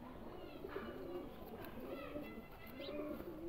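Soft, low cooing from a female pigeon repeats in gentle rolling phrases over a quiet, slightly hissy background, fairly close.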